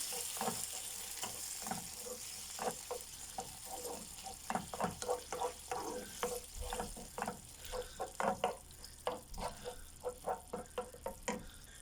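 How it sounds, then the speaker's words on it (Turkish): Homemade sauce boiling down in a pan for Balkan sauced buns: a soft continuous bubbling sizzle with frequent irregular pops and spits, growing livelier toward the end, fairly close and with no talking. "Bu biraz suyunu çekene kadar kaynatalım."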